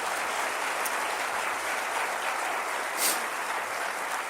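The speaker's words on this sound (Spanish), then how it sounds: "Dale un aplauso" Dense, continuous applause from a crowd, steady and moderately loud throughout, with no voices standing out.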